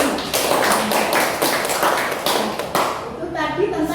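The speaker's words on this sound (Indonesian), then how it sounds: "tepuk tangan untuk Mas Fia." Children clapping in a classroom during a lesson, a dense burst of hand claps that fades near the end as a voice and other talk come in.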